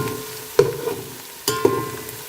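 Onions browning in a pan over high heat for matar pulao, a steady soft sizzle with two brief stirring clinks.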